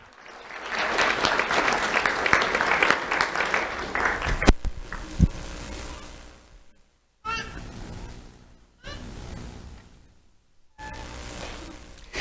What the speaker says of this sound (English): Let's have a round of applause for Leila Barbosa.